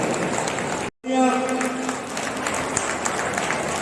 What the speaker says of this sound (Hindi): जो लोग तालियां बजा रहे हैं मेरा बिना कहे हुए, वो सम्मान में दिल से साथ है